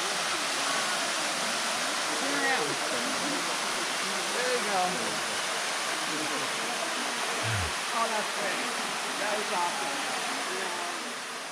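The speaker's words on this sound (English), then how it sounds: "Our first part of the hike was to visit a beautiful waterfall" Constant broadband roar of a waterfall in the Andes mountains near Santiago, Chile, steady and loud throughout, with faint voices murmuring beneath the rushing water.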